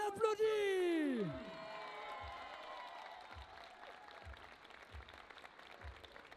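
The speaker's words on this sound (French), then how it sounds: "Oh, tout le monde l'applaudit." Crowd at a women's bouldering final shrieking then clapping for a climber, a loud falling scream up front giving way to sustained applause, with low dull thumps recurring at regular intervals underneath.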